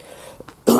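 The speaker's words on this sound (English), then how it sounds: "Excuse me, coughing." A single cough bursts out near and loud after a couple of faint throat sounds, from someone with a build-up of phlegm.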